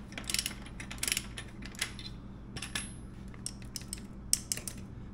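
Metallic clicks and ratcheting taps from a wrench tightening a bolt while a sprocket is installed on a 2022 Triumph Speed Twin motorcycle, faint and close, with irregular bursts of clatter.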